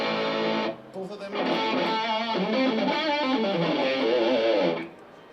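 An electric guitar played through a TC drive pedal and a TC distortion pedal, both engaged, rings out in crunchy sustained chords and melodic phrases after a brief pause, fairly loud and alone.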